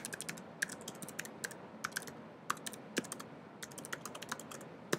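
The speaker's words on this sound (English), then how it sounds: "you can come in here and type in a web address" Rapid keystrokes on a computer keyboard while a web address is typed into a QR code builder, steady close clicking with uneven bursts and short pauses, no voices.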